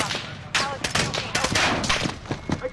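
Bursts of gunfire from Call of Duty: Modern Warfare crack out in irregular rapid volleys, some sharp single shots and some quick runs, loud and close throughout.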